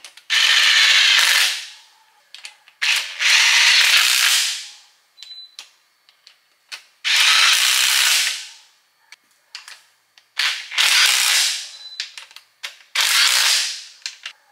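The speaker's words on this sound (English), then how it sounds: "Let's put all the head bolts in, see if they can't cinch down" Ratchet tightening head bolts on a 5.3 LS engine with 706 cylinder heads, loud close bursts of rapid clicking of about a second each, repeated several times with short pauses and small clicks between.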